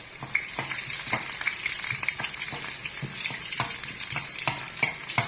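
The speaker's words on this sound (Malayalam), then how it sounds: "അതിലേക്ക് ഉള്ളി മുളകും വേപ്പിലൊക്കെ ഇട്ട് താളിക്കണം" Continuous sizzling of onion, chili and curry leaves frying in hot oil for tempering, with crackles, pops and scraping stirring sounds throughout.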